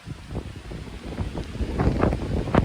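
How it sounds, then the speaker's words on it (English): Strong wind on the Southern Upland Way in Scotland buffets the microphone in gusty, roaring bursts, rising toward the end with no voices present. "it's so windy now."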